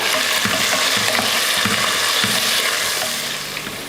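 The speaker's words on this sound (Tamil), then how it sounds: "இப்போ இதை வதக்கிடலாம். நல்லா பொன்னிறமாக வர வரைக்கும் வதக்கிக்கோங்க." Sliced onion and green chilies sautéing for vegetable biryani, a loud continuous sizzle with rhythmic spatula stirring strokes roughly every half second, heard close and alone.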